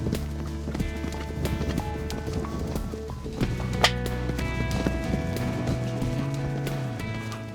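A horse's hooves pound through a riding-arena double, an oxer then one stride to a vertical, with steady clip-clop footfalls and a sharp impact as the horse takes off, set against constant background music.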